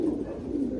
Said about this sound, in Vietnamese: Cho mọi người xem tận mắt bồ câu ở trại mình để mọi người thích.